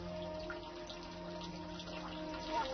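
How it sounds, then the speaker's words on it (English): Steady trickling and burbling of a garden stream running over rocks in Jichang Garden, continuous and fairly soft, with a low constant hum underneath. "As it flows over the rocks, the water seems to sing."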